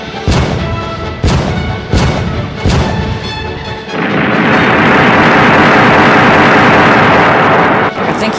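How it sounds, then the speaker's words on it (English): Several heavy booming cannon shots land in quick succession in a Godzilla video game, then give way to a sustained roaring rumble of continuous blasts, loud and close. "I think it's time that we use the cannons"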